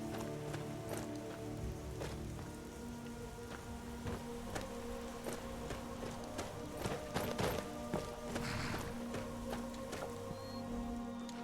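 A horse gallops in the video game Skyrim, its hooves making quiet, rhythmic clip-clops with scattered clicks throughout.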